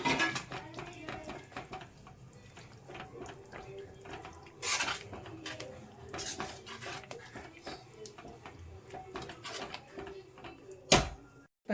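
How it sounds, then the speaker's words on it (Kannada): Fried okra stirred into a North Indian ladies finger curry in a metal pan, with a spoon scraping and clinking against the pan in a steady rhythm of close taps, plus a sharp louder knock near the end. "ಈಗ ನಾವು ಫ್ರೈ ಮಾಡ್ಕೊಂಡಿರೋ ಬೆಂಡೆಕಾಯಿನ ಸೇರಿಸ್ಕೊಳ್ಳೋಣ. ಸೊ ಈಗ ಮಿಕ್ಸ್ ಮಾಡ್ಕೊಳ್ಳೋಣ."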